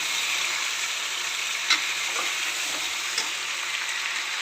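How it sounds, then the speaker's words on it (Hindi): Chicken frying in hot oil in a karahi with salt and garlic-ginger paste, a steady loud sizzle with occasional stirring scrapes and pops. "चिकन को 4 से 5 मिनट इसमें लाजमी तलेंगे"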